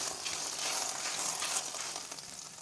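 Layered flatbread frying in a pan, a steady close hiss of sizzling oil with faint shifting crackle and no voices.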